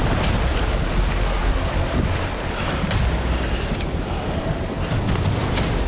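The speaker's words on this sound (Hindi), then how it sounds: "हम झरने के ठीक नीचे थे।" Water roars down from a mountain waterfall on the Kinnaur Kailash trek, heard from directly beneath it. A dense, unbroken rush of falling water and wind-like noise fills the whole stretch, loud and close.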